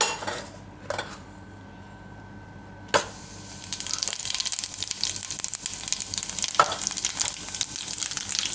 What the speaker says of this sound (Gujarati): હવે તેલ આપણું ગરમ થઈ ગયું છે. આમાં નાખશું આપણે થોડુંક જીરું